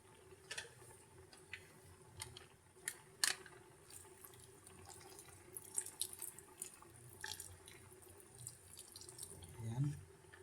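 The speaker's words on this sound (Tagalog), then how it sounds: "Kaya lagyan natin siya ng suka." Vinegar is poured onto chicken lechon paksiw, a quiet liquid trickle and splash with small clinks and drips scattered through it, growing a little louder near the end.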